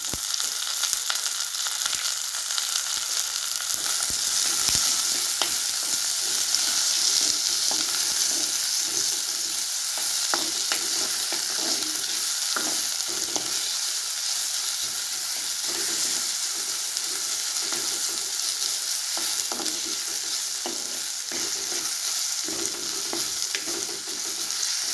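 Curry leaves, rampe and salt sizzle and crackle steadily in oil in a pan as they are stirred. A continuous bright hiss carries irregular scraping stir strokes for the whole stretch, with no voices.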